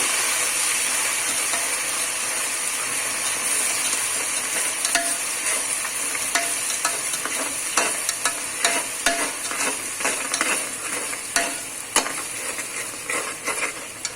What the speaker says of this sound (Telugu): సో అల్లం వెల్లుల్లి పేస్ట్ వేగాలి